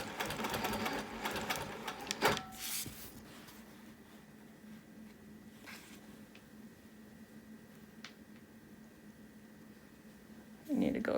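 A sewing machine stitches a wholecloth quilt in short bursts of rapid needle clatter, near and distinct, with quieter pauses between the runs.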